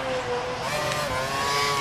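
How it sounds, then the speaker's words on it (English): In the racing game F1 2012, an F1 car's engine revs hard during a race at Brazil, a loud continuous high-pitched whine with rising and shifting tones and no speech. "Lap 2, revving the engine hard."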